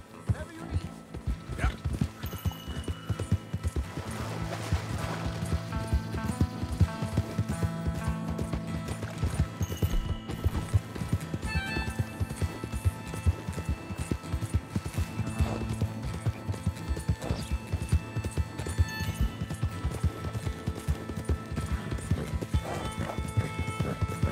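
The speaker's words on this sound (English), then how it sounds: "Mr. Mason, I'm borrowing your horse." Continuous clip-clop of hooves at a brisk, even trot in the video game Red Dead Redemption 2, with a horse snorting and whinnying now and then over a steady outdoor background.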